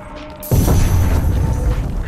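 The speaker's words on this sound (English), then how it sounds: "Ooh. Explosions." Loud explosions in the Deadpool video game, a sudden heavy boom bursting in after a quiet half second and then rumbling on as a dense, sustained roar of blasts and debris.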